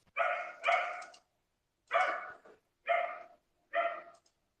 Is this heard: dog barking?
yes